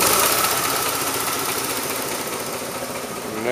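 Boat engine with the doghouse cover off, idling low after being shut down and restarted, a close steady rumble with a faint knocking pulse throughout.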